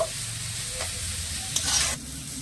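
Vegetables sizzle steadily in a hot pan while a spoon or spatula stirs them, giving scraping knocks and bursts of louder frying as the pieces are turned, close and with no talking.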